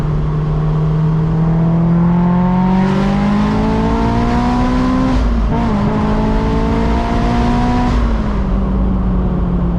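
A supercharged 2006 Honda S2000 AP2 making 450 wheel horsepower accelerates hard with some tire spin, its engine droning loudly and rising in pitch with a brief dip at a shift, heard close from inside the car.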